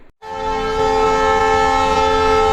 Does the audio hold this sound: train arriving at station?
yes